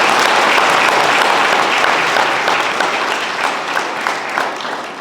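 Dense, sustained applause from a dinner audience at a keynote address on ethical leadership, loud and steady throughout and easing slightly toward the end.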